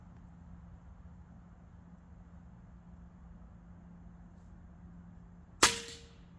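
An air rifle fires a single H&N Green pellet, one sharp crack after a stretch of quiet room hum, followed by a brief ringing decay.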